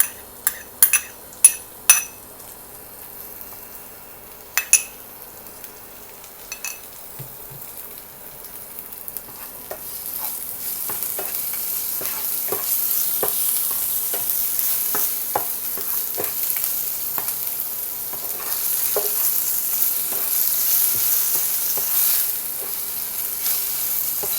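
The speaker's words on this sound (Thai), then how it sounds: "ผัดพริกกระเทียมก่อนนะคะ" Chilli and garlic are stir-fried in a pan for a Thai home-cooked dish: a few sharp metallic clinks of a utensil come first, then a steady, close sizzle builds and continues with light scraping and stirring taps.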